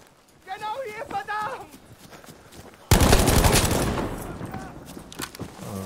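A Lewis gun machine gun fires in Battlefield V, a sudden loud burst of rapid automatic gunfire that cuts in after players talk and rumbles on into fading echoes.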